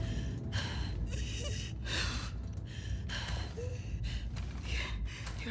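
Laboured, heavy breathing of a wounded character in The Last of Us Part 2, a rhythmic series of rasping gasping inhales and exhales, close and repeated steadily over a low ambient rumble.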